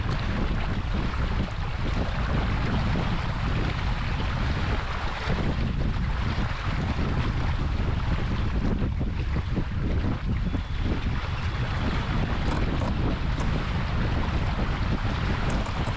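A single-handed sailboat running in strong wind, with steady loud wind roar over the microphone and rushing water along the hull throughout, no voices.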